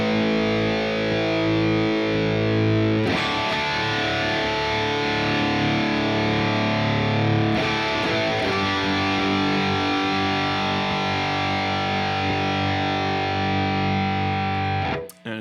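Heavily distorted electric guitar through a Crunch Berries Mark IIC+ preamp simulator in lead mode with an old tube, sustained saturated chords ringing loud and continuous, changing twice before cutting off abruptly.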